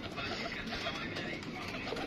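Pigeons of an Indian breed coo softly and steadily, a dense continuous murmur of several birds close by, with someone talking over them.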